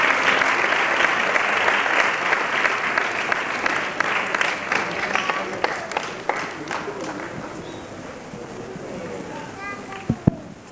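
Loud crowd applause for dance school students at a municipal dance school closing event, dense and sustained at first, then thinning and fading, with voices and a few scattered claps near the end.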